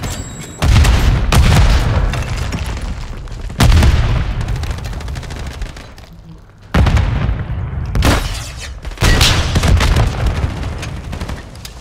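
Call of Duty Modern Warfare 3 multiplayer combat erupts in several loud booming blasts and bursts of gunfire, each hitting hard then trailing off, with a short lull in between.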